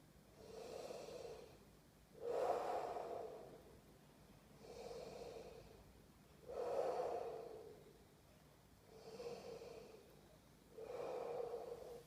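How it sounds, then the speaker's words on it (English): Slow breathing in and out, six soft airy breaths in a steady rhythm with each one swelling and fading, close and quiet with no talking. "The sound of the air coming into your body will create the sound of the air going out of your body."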